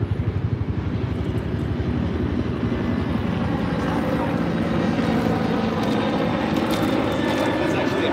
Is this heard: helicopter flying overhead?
yes